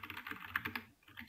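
Rapid, quiet keystrokes clatter on a computer keyboard during English typing practice, a steady run of close clicks with a brief pause near the end.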